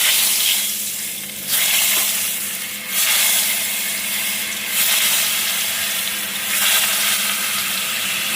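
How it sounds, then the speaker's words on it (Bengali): Round potato slices frying in hot oil for khichuri, a loud continuous sizzle that surges in waves every couple of seconds, close and without any talk. "এখানে আমার তেল গরম হয়ে গেছে, গোল গোল করে আলু কেটেছি, ভাজবো।"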